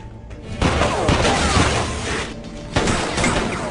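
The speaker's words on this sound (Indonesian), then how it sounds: "Mendengar suara tembakan," Gunfire erupts in a Dwayne Johnson action film, with loud bursts and crashing impacts over a tense background, two sharp hits standing out amid the noise.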